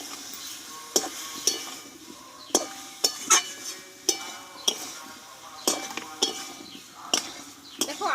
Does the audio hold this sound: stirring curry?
yes